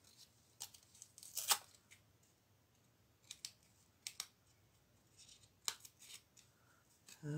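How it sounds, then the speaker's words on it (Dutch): Scissors cutting through cardstock and greyboard for a mixed-media craft piece; quiet, close, irregular snips and crisp clicks spaced across several seconds, with no voice over them. "Of langs het grijsboord met het onderste deel van je schaar."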